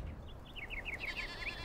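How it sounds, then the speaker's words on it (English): A goat bleats in the survival game Enshrouded, a single wavering, quavering cry of moderate loudness over a low background hum. "Okay, so we do have goats."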